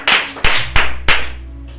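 A church congregation claps in praise of the Lord, four sharp, loud, evenly spaced claps in a quick rhythm, close and clear with no talking.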